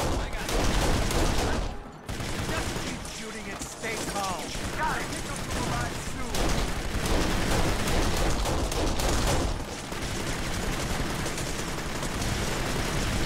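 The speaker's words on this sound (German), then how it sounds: "Wir werden da von allen Seiten beschossen." Gunfire pours in from all sides during a firefight in the video game Kane and Lynch: Dead Men, a dense, loud, continuous barrage of overlapping shots and impacts with only a brief lull near the start.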